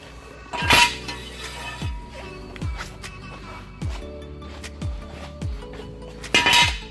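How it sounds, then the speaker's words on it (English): A metal car jack stand is pulled out from under a car during a home oil change, giving sharp metallic clanks and scrapes, two loud near hits at the start and end with softer knocks and thuds in between. "let's go ahead and remove our jack stand"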